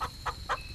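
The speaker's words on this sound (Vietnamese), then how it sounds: "con gà mái." A hen gives three short, evenly spaced clucks, faint and fairly close, each a brief nasal burst separated by quiet.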